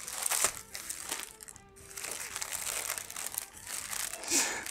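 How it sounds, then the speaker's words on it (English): Paper wrapper crinkling and rustling as a Whataburger chili cheeseburger is unwrapped by hand, several close crumpling bursts with brief pauses between them, fairly quiet and without talk. "Now it's time to unwrap the chili cheeseburger."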